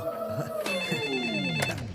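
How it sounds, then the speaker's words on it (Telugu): A telephone bell rings in a film comedy scene, a short bright trilling burst with a second ring following, heard fairly close and clear. "ఫోనే మోగుతుంది."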